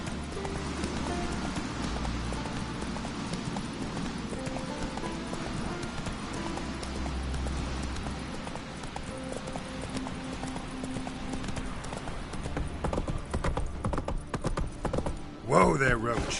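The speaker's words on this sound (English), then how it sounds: "Whoa there, Roach." Hooves clip-clop in a steady rhythm as a horse trots through the game The Witcher 3, with a brief whinny near the end. Game ambience plays underneath, and speech is faintly present.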